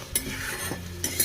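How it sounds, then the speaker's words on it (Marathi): Squid stir-frying over a high gas flame in a kadhai, with steady sizzling broken by two sharp scraping clatters of a spatula stirring the pan. "आता मी गॅस मोठा करते आणि मोठ्या गॅसवर पटापट फ्राय करून आटवते"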